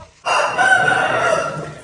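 A brooding hen lets out a single loud, drawn-out call close by, sustained for over a second after a quiet start.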